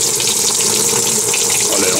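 Consul 9kg washing machine (CWB09AB) filling with water from side jets on each side of the drum: a loud, steady gushing spray that runs continuously and close up.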